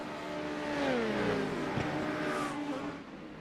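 An LMP2 race car in a racing video game approaches and passes, its engine rising and falling in pitch with a clear doppler sweep, loud and alone for a few seconds.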